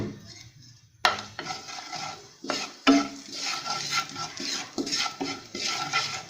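Half a teaspoon of carom seeds (ajwain) stirred into hot oil in a pan, with a utensil scraping and clinking against the metal over a soft sizzle, close and fairly quiet, in a few separate strokes.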